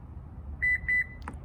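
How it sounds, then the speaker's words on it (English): A 2020 Lexus RX power back door gives two short, clear electronic beeps in quick succession while its position memory is cleared, followed by a faint click, over a low hum of background noise. "we had our 4 beeps, 2 additional beeps, it's all clear."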